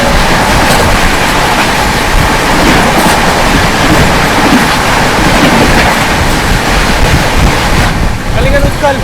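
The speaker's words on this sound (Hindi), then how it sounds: "दोस्तों सामने से आ रही है पुरी से चलकर योग नगरी ऋषिकेश की ओर जाने वाली कलिंगन" The Kalinga Utkal Express, running from Puri toward Rishikesh, passes with a loud, steady broadband rumble and rush that holds for the whole stretch without letting up.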